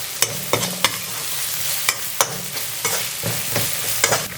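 Ginger garlic paste sautéed in a pan until dark brown, loud close sizzling broken by repeated sharp scrapes and clacks of a spoon against the pan at an uneven rhythm, no voices.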